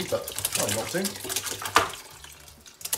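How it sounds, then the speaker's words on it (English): Dandelion wine liquid is poured gently into a mashing bag, a splashy running-water sound that comes and goes under a person talking. "we're gonna gently pour this all in. Careful not to splash, it is a bit splashy"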